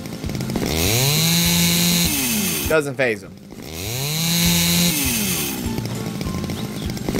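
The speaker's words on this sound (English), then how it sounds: "Use a chainsaw. Well, I just actually used one just now" Chainsaw cutting logs in the House Builder video game, a loud, sustained buzzing whine that dips briefly midway and then surges again, with someone speaking over it.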